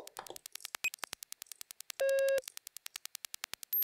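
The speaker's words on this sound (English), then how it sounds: "crackling hi-hat kind of sound, I have this one." Modular synth patch in a glitchy minimal style: rapid, regular crackling hi-hat clicks, dry and bright, ticking in an even rhythm, broken by a brief steady tone burst.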